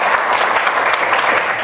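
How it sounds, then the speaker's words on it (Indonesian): An audience of graduating engineering students at a university briefing session breaks into loud, sustained applause, a dense and even crackle of many hands clapping close by with no talk over it. "tepuk tangan untuk Anda semua ya"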